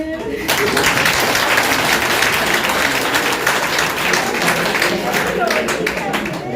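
Dense, sustained applause from an audience at a selection celebration, loud and continuous with sharp individual claps standing out throughout.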